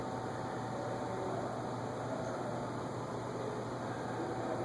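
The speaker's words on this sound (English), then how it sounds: "there you have it, a chrome iFan in its current habitat." An A&G Machinery Bentley chrome ceiling fan with mirrored blades runs indoors, giving a faint, steady airy whoosh over a low constant hum, unchanging throughout with no voices.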